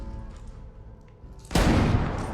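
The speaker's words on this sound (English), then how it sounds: "Nice shot. Shoot him, Joel." Gunfire in the TV show The Last of Us, a quiet murmuring lead-in followed by a sudden loud burst of shots with a booming tail that lingers to the end.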